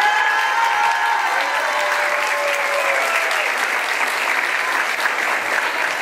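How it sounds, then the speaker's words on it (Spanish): Loud sustained applause from a large outdoor crowd at a Pride march award ceremony, dense clapping that holds steady and close for several seconds, with a faint tonal whistle early on. "Fuertes aplausos, que se escuche gente de Coahuila"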